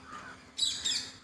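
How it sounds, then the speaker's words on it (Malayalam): A parrot calls among many birds outdoors in the morning, giving a faint chirp and then two bright, harsh squawks close together. "കേട്ടോ തത്തമ്മയാണ്"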